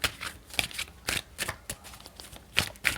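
A deck of tarot cards being shuffled by hand in bursts of quick papery riffles and flicks, close and fairly soft, with short pauses between the bursts.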